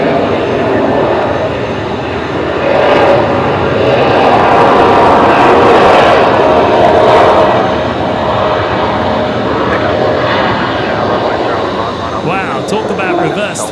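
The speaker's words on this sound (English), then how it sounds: "Wow, talk about reverse thrusts." An Airbus A320 or A321 airliner lands at night at Brisbane Airport with a loud, sustained roar of reverse thrust. The roar swells and holds for several seconds, then slowly eases, with people talking underneath.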